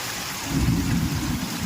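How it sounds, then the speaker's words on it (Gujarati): Heavy rain pours down in a dense, steady hiss while a low rumble of thunder swells and rolls beneath it for a moment. "હા જો ખાલી વરસાદ"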